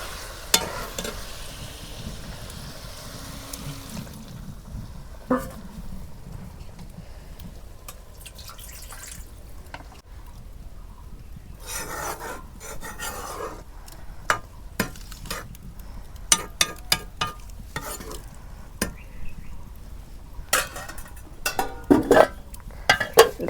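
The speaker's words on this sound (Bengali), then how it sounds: "তেলে পানি দিয়ে আমি কষে নিলাম।" Chicken feet are sautéed in oil with a splash of water in a pan, giving a low continuous sizzle broken by frequent sharp scrapes and knocks of stirring that grow busier toward the end.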